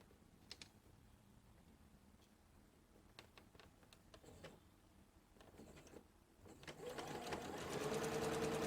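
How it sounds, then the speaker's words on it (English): An electronic sewing machine stitches a buttonhole on a skirt placket, starting with scattered clicks and taps and building into a rapid, steady mechanical whir that grows louder toward the end, with no talking. "then you just press go. That's the beauty of an electronic machine."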